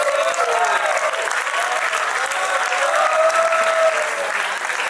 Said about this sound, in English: Give yourselves a big cheer, please.